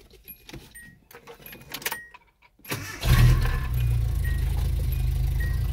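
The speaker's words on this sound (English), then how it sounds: "Your engine will start." A 1986 Nissan D21 pickup engine is cranked and fires up, settling into a loud, steady idle after a few seconds of quiet clicks and handling noises.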